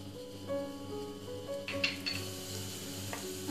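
Cumin seeds hitting one tablespoon of hot oil in a pan for a garlic chutney tempering: a low simmering hiss that bursts into sharp, bright sizzling midway through, close and alone, with a faint clink of utensils.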